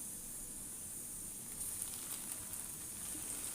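Bread frying in a pan over a medium flame gives a steady, soft sizzling hiss that stays faint and even throughout, with no voices over it.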